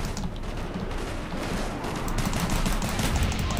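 Pistol fire in the Call of Duty Black Ops video game comes as a dense, loud run of rapid overlapping gunshots and game noise, with no speech.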